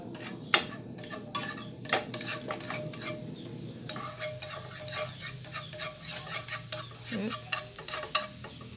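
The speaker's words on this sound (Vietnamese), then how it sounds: "Rồi mình sẽ cho hành bô rô vô, mình phi cho thơm." Chopped shallots fry in hot oil in a pan, sizzling steadily while a utensil stirs and clinks against the pan in sharp, irregular knocks, close and without talk.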